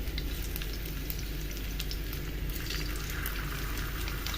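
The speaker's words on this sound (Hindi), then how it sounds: "देखिए मस्टर्ड ऑयल हीट करना रखा है और अभी मैं इसके अंदर ये डाल देती हूँ स्नेक गोट" Snake gourd fries in hot mustard oil in a pan, giving a constant, fairly loud hiss with a bubbling edge and occasional small crackles, no voices.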